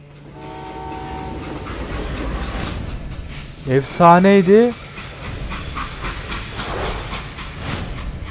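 A train in Call of Juarez Gunslinger during a robbery scene, its rumble and clickety-clack rolling under steady talk, with a loud, chord-like horn blast sounding in the middle before the rumbling carries on.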